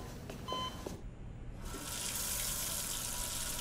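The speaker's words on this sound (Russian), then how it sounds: "Аль, закрой кран" Water running from a kitchen tap, a steady broadband hiss that swells and fills the second half after a brief beeping start, close and moderately loud with no talk.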